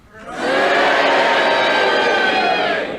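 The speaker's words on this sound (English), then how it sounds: "Will you cheer if you think he's dead, and will you boo if you think he's alive?" Studio audience at a radio panel game cheering and booing together, a loud dense crowd roar that swells in quickly, holds steady for about two seconds, then starts to fall away.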